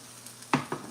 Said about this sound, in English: So I'm gonna do 2 steaks at a time to kind of sear them off.